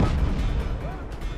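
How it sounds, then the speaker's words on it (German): Explosions go off in the video game Just Cause 3, a loud, rumbling, bass-heavy blast that fills the short moment. "Oh! Explosionen!"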